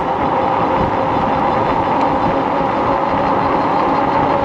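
Nakto Folding OX e-bike with a 500 watt motor climbing a steep hill on throttle at level 5, a loud continuous rumbling drone of motor and wind without pauses or speech.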